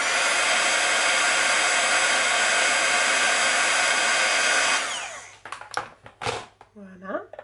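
A heat tool blows steadily and loud, warming a wax seal embellishment on a scrapbooking bookmark, then switches off, leaving brief handling clicks and a short spoken phrase.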